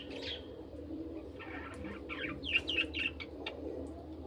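Pigeons kept in a loft coo and call softly and fairly faintly over a low background hum, with a short run of brighter chirpy notes near the middle.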